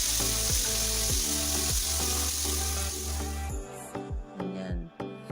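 Garlic chicken strips frying in a pan give a steady, close sizzling hiss beneath background music, thinning out and turning patchier toward the end.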